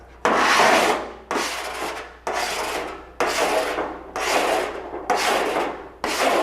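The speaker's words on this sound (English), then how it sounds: "Well, go ahead and file just this area." A metal file rasps back and forth across a 1968 Mustang California Special body panel in six long, steady strokes, loud and close, with brief gaps between passes.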